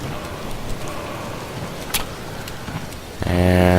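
Steady rain patters in the Spore video game, a soft continuous hiss through most of the clip, ending in a loud, low game tone.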